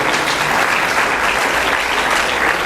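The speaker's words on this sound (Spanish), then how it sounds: "¿Cuánto le dan palmas al Señor esta tarde?" A church congregation claps for the Lord during a Spanish-language worship meeting, a short, full burst of steady, dense applause from many hands.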